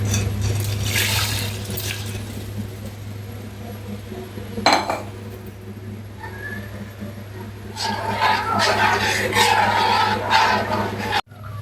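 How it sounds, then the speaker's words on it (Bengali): Washed mixed lentils tipped into a pot of water and spices, giving a clattering pour and splash with a sharp knock midway, over a steady kitchen hum, close by. "এই যে সব ডালগুলো আমি ধুয়ে মিক্সড করে রেখেছি, এগুলো এখন আমি এটার মধ্যে দিয়ে দিব"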